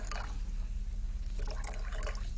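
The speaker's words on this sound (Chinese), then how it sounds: "再斟酒" Wine poured into a cup gives a short, soft trickle of liquid over a low steady background rumble.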